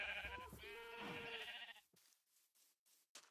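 Sheep in a Minecraft world giving a loud, wavering bleat up close, followed by a few soft clicks and footsteps.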